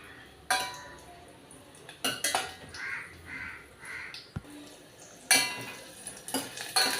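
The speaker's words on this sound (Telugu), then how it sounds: "ఆయిల్ హీట్ అయింది. తెల్లుల్లి వేసుకోవాలి." Garlic tossed into hot oil for palak pappu (spinach dal): close clatter of a metal spoon against the pan, with a few sharp knocks over a low, faint sizzle.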